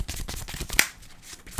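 A deck of Magic cards is shuffled by hand, a quick run of soft riffling flicks and snaps close by, ending with a brief sharper card tap.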